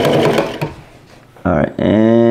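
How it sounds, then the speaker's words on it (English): A sewing machine top-stitches a dress shirt collar in short loud bursts of motor whir, broken by brief pauses. "From here, I want to top stitch it down."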